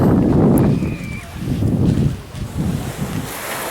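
Irish Sea waves wash along the beach at Bray in Ireland, a low rolling surf in several surges, heavily buffeted by wind noise on the microphone.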